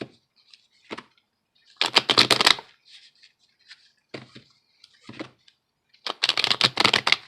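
Tarot cards are shuffled by hand close up, with two longer riffling bursts of rapid crisp card flutter separated by quieter taps and single snaps of cards being handled.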